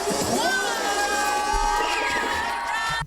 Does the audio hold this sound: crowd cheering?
yes